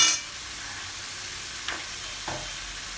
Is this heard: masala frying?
yes